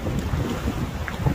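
Strong wind over the Danube River buffets the microphone with a steady, rumbling low roar and faint hiss, continuous and close.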